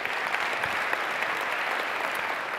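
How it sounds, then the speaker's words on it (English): Steady, full applause from a conference keynote audience for the event curators, many hands clapping in a dense continuous roar, close and even for the whole stretch with no voices on top. "Let's give them a round of applause."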